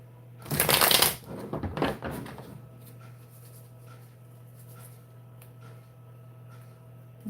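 Tarot cards are shuffled in a quick, riffling burst of papery flutters lasting about two seconds, followed by quiet with a steady low hum.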